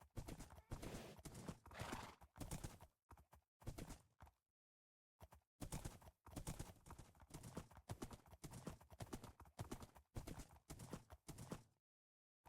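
Donkey hooves clip-clop in Minecraft, a steady run of hollow, close-up clopping that stops briefly and then resumes, with a horse neighing now and then.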